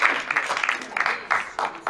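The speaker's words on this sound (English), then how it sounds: "Okay, you know, you can clap for that." Audience applause at an AmericaFest 2022 breakout session, a short burst of crowd clapping that swells in uneven waves over a couple of seconds.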